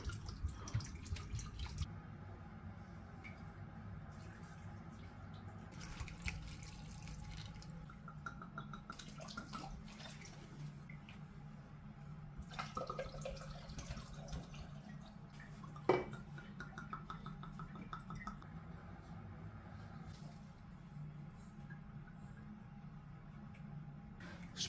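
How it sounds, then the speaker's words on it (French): Water drips and trickles softly as houseplants are watered indoors, faint scattered droplets and pouring against a quiet room background. "je suis en train d'arroser mes plantes."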